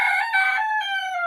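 A backyard chicken crows in the coop, one loud drawn-out cock-a-doodle-doo close by, alone with no other sounds.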